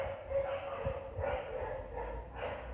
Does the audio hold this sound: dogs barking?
yes